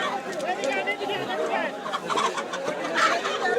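Many chickens cluck and chatter at a busy Saudi poultry market on a discount Friday, a dense, steady flock noise close by with people talking over it throughout.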